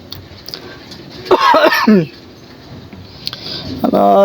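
A person coughs in a short series of harsh bursts, close and loud, inside an old airport area, followed by a quieter stretch and another brief throaty sound at the end.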